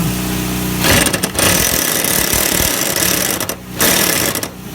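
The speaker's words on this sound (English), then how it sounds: "Put the impact gun on." An impact gun tightens lawn mower blade bolts onto the spindle in loud, buzzing bursts, with a short pause and a brief drop partway through.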